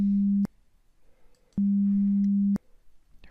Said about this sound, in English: a pure tone with a frequency of 200 hertz